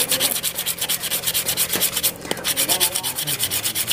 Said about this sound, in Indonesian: ini kita bisa menggunakan amplas seperti ini, tatakan